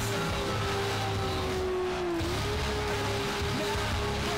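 A Nissan Skyline R34 driven in Need for Speed Underground hums along at a steady engine tone, the pitch dipping briefly as the driver shifts and then climbing back, close and constant, with faint tire noise beneath and no speech.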